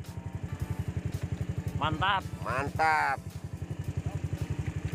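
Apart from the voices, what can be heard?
motorcycle passing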